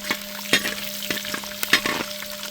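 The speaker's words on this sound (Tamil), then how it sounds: "ஒரு மூணு பச்சை மிளகா நல்லா ரவுண்ட் ரவுண்டாக வெட்டி இந்த எண்ணெயில் சேர்க்கணும்" Three green chillies cut into rounds frying in hot oil, crackling and sizzling close up, with repeated scraping stirs and a faint steady hum beneath.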